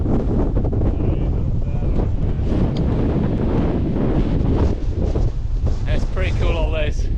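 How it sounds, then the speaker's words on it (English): Strong gusting wind roars and buffets the microphone on a mountain summit at Swirl How in the Lake District, loud and constant throughout, with people talking under it. "At least wind's blowing us back up."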